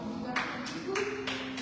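A church congregation applauds in a few quick bursts of clapping, with a voice running faintly underneath.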